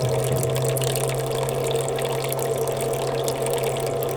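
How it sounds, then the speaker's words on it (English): Warm water poured through a funnel into the boiler of a model garden-railway steam engine, a steady, continuous close-up trickle and rush with a low hum beneath, lasting the whole time without talk. "I fill the boiler up with water."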